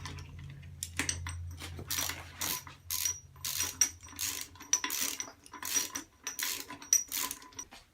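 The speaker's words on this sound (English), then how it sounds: "from here, you just tighten the wheel." A ratchet tightens the wheel on a BMX bike while forks are being fitted, quick clicking bursts in a steady back-and-forth rhythm, close and fairly quiet, with no talking.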